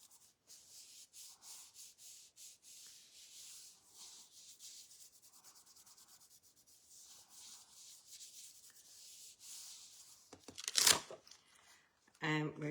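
Rubbing over a stamped image on a card as part of a Stampin' Up! layered card, a soft, steady rhythmic scrubbing that repeats through the clip, with a louder rustle and a clatter near the end.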